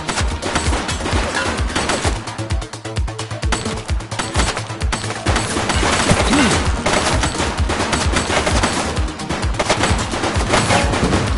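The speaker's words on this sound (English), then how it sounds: "He's shooting!" Sustained gunfire in the police video game The Precinct, loud and continuous rapid bursts like automatic weapons rattling without pause for the whole stretch, with no voices over it.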